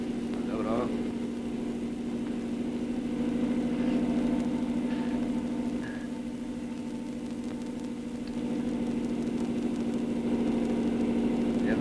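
A boat motor runs at night as a steady, even low drone throughout, with people talking over it.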